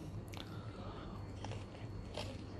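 A crunchy tropical fruit is bitten and chewed up close, producing dense, continuous crunching and crackling throughout.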